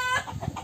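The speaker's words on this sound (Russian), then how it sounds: "Петушок." A single brief call from a rooster, a short throaty cluck heard nearby.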